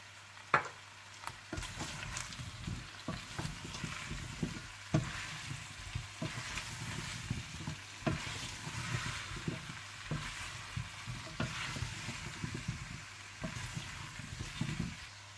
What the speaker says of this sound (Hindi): हरी मिर्चें, जुलियन कटी हुई अदरक और गरम मसाला डालकर अच्छी तरह से मिला लें।